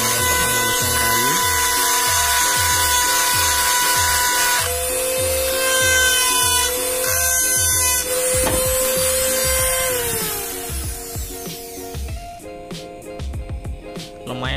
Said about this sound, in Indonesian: amplas berbentuk linggis tabung. Ini adalah kita gunakan untuk menghaluskan kayu